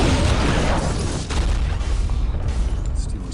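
A bomb explodes in an action film, a loud, deep, rumbling blast that stays heavy and slowly breaks up into crackling debris.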